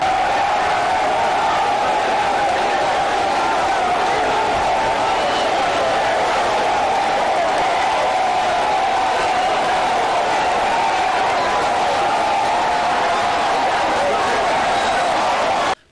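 A dense, loud crowd greeting the president of the Republic as he walks through it toward a rally venue, a continuous roar of shouting, chanting and cheering with no break.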